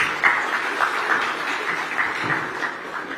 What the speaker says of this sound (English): Well, a big round of applause for all the panelists.